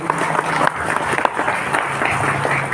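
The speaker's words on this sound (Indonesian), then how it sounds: "Kita beri aplaus gak apa-apa sekali untuk menutup kita hari ini" Seminar audience applauding at the close of a pesantren event, a steady moderate patter of many hands clapping in a room, continuous for a few seconds without speech.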